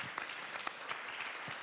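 An audience at an event marking twenty years of an organization applauds in a dense, even wash of clapping, faint and distant, lasting under two seconds.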